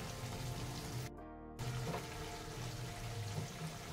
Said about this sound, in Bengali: জলটা অ্যাড করে দিচ্ছি।